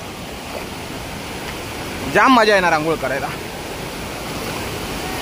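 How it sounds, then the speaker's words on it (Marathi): Waterfall pouring into a stream pool in a rural Konkan setting, a steady broadband rush of falling water throughout, with someone briefly speaking over it in the middle. "वॉटरफॉल एक नंबर आहे, धबधबा खतरनाक आहे"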